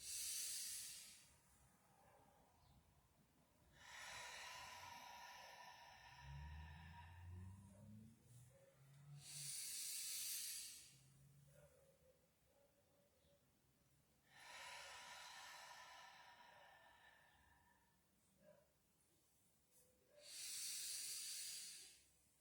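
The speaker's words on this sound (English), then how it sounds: "So again, I'm kind of pushing my belly out on the inhale to make room." Slow, deep breaths during a stretching exercise, with long hissing exhales and quieter inhales repeating in a steady rhythm about every five to six seconds, close and soft, with no talking.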